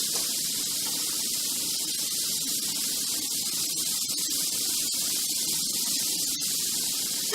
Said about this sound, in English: what I plan on doing is spraying this with a little bit of the soy sauce